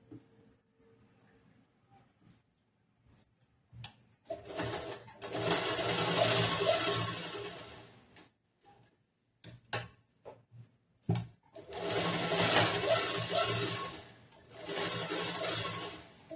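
A sewing machine stitches blouse lining cloth in several bursts of close, steady whirring, separated by pauses with quiet handling sounds and brief clicks.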